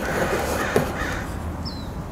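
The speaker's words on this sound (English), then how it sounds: "would you tell that crow to shut up" A crow caws loudly nearby outdoors in Huntington Beach, California, giving a short harsh call over a steady background.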